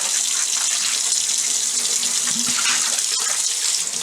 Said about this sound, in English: I'm actually just going to let that run under the water.